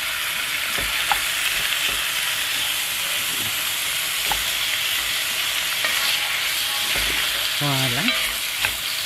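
Rabbit pieces with carrots and mushrooms brown in a pan with a steady close sizzle, broken by occasional utensil scrapes and stirring; a voice speaks briefly near the end.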